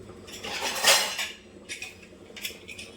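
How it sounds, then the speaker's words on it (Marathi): A metal lid is fitted onto a pressure cooker with a bright clatter and scrape that peaks early, then a few lighter metallic knocks follow, close and clear. "याला आपण कुकरला झाकण लावू"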